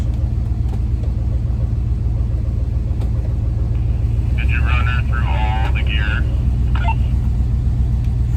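A van engine with a 4L60E transmission idles in a steady low rumble while being run through the gears, with someone talking over it partway through.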